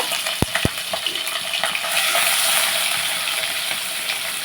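Green chillies and onion paste sizzling in hot oil, a steady broad frying hiss with a couple of sharp clinks near the start, close and moderately loud.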